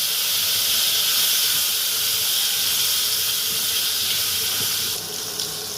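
Drumstick pieces, potato and tomato dropped together into hot oil that has been tempered with nigella seeds, giving a steady, loud broadband sizzle that continues throughout and softens slightly near the end.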